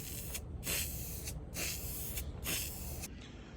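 An aerosol spray can sprays paint onto a 3D printed car spoiler in three loud, close bursts of about a second each, separated by short pauses.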